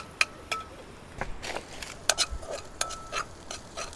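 Close metallic clinks and scrapes of a utensil stirring in a cooking pot at a riverside campsite, irregular taps spread across a quiet background.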